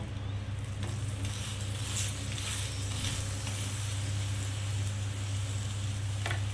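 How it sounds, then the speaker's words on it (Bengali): Radish-stuffed paratha frying in a little oil on a pan, a soft continuous sizzle with low steady hum from a gas flame, close and without speech. "দিয়ে সুন্দর করে এটাকে লাল করে ভেজে নেব"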